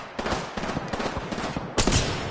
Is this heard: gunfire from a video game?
yes